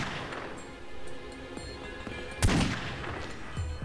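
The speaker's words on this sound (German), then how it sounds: "Denn jetzt werden wir von überall beschossen und wir schießen auf überall." A shootout in The Godfather game brings scattered gunshots from several directions, with a sharp, louder blast about midway and lighter shots around it over a low background din.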